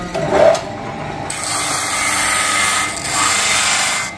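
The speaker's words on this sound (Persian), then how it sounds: "بریم یک ترکه سنباده بزنیم" Sandpaper rubs back and forth over a wooden stick, part of a kamancheh bowl, making a close, dry scratching rasp in a few uneven strokes.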